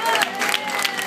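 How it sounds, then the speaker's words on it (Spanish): An audience at an acoustic concert in Barcelona claps steadily, a soft, even patter of many hands with faint crowd noise mixed in. "Fuerte el aplauso para la risa."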